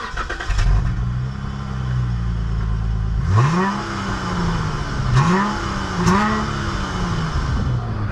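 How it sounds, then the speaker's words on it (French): A 2015 Dodge V6 engine revs in short bursts, one long climb followed by two quicker blips over a steady idle, loud and close with no talking. "Ça fait vraiment drôle d'entendre un bruit de V6 dans une américaine."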